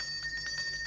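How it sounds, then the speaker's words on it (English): A small bell rings repeatedly in quick, steady strokes, faint and somewhat distant, with a low hum running underneath. "I wonder why he's ringing the bell when the gate's already up."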